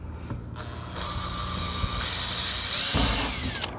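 Power drill with a small bit grinding into a bus's metal roof during a home conversion, starting with short bursts, then running as a continuous whirring screech that rises toward the end, close by.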